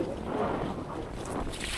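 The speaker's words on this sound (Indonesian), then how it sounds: "Karena ombaknya kenceng sekali." Big waves crash and splash against the Jakarta sea wall while a strong wind buffets the microphone, producing a dense, continuous roar with no voices.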